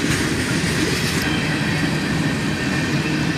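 CSX southbound manifest freight led by a pair of GE ES40DC locomotives rolls past close by, a steady loud rumble of wheels and railcars with faint clickety-clack and no voices.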